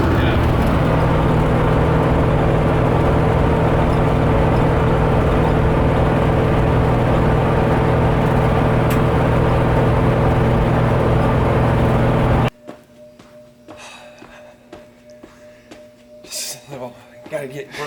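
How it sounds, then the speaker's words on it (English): An old International Travelall with a 392 engine drives along, its loud, steady drone and road roar filling the cabin for about twelve seconds before cutting off abruptly to a quiet, rustling interior. "No cooler way of going to town to get parts than in an old school Travelall. With a 392."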